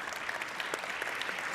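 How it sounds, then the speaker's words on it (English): Steady applause from a conference audience at a 4YFN 2018 fireside chat in Barcelona, a dense, even patter of clapping hands filling the brief moment. "Big round of applause for them."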